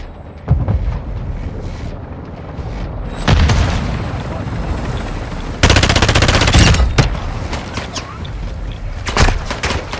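Gunfire and explosions fill a military video game battle. Rapid machine-gun bursts and heavy booms sit over a constant roar of wind and combat noise.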